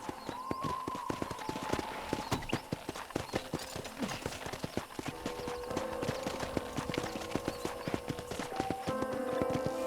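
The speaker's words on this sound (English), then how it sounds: "let's see if you can still ride a horse" Horse hooves in Red Dead Redemption clip-clop at a steady, brisk rhythm throughout as the horse is ridden around a ranch. The hoofbeats are close and continuous, with faint background game sounds and no talking.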